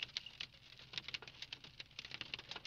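Sleet in a winter storm in eastern Colorado or eastern Wyoming patters on a window, a quiet, rapid, irregular ticking of small icy pellets.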